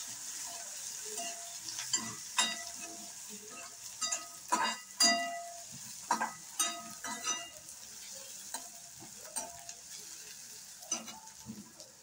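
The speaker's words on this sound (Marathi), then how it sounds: "कढीपत्ता टाकून घेऊ, मिरची टाकू, कांदा टाकून घेऊया।" Curry leaves, green chili and onion frying in a pan for poha, with a soft sizzle broken by several sharp crackles and stirring clicks, close but fairly quiet and without talking.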